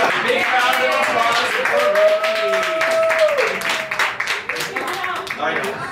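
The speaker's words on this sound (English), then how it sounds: "And then we have a big round of applause for Ricky." Clapping and cheering for a child at a small arts presentation, with a voice calling out over the noise and rapid, uneven claps that thin out toward the end.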